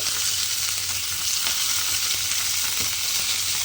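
Flat beans fry in a covered pan with a constant, hissing sizzle that stays loud and close, broken by a few soft pops.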